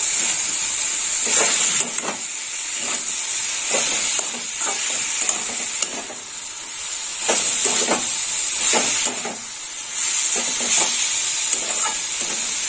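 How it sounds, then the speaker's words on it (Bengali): Fried potatoes are stirred in a pan for a Bengali mocha (banana flower) dish, with a loud, steady sizzle and repeated scraping strokes of the spatula close by, and no talk. "ভেজে রাখা আলু দিয়ে দিলাম। আলু আর একটু নেড়ে চেড়ে নেবো।"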